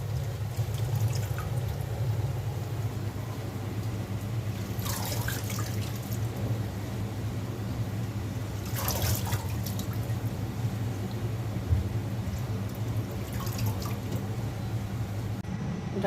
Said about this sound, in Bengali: ডাঁটা শাকটা আমি 10 মিনিট পানিতে ভিজিয়ে রেখেছি। এখন উঠিয়ে নিচ্ছি।